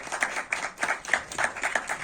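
Audience at a Q&A event on a Dewa19 30th anniversary tour, clapping for about two seconds in a steady run of medium-loud claps with slight swells, no voices over it.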